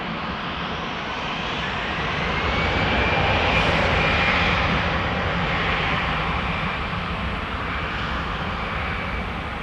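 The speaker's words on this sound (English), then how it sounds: "And there's Austrian on its way to Vienna too." An Austrian Airlines jet departing Amsterdam Schiphol toward Vienna roars steadily, its broad engine rumble swelling slightly toward the middle and then holding loud and continuous, with no voices over it.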